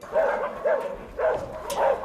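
Rescued puppies at a shelter in Vlora, Albania, bark and yip in short repeated bursts close by, with three or four distinct yelping calls and no talk over them.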